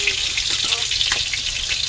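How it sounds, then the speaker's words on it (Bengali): Giant freshwater prawns fry in hot oil, giving a steady, close, loud sizzle with bright crackling that runs through the whole moment, and a faint voice is briefly heard under it. "এমন করে আমি সবগুলো ভেজে নেব।"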